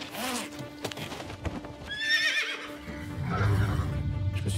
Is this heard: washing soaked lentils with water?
no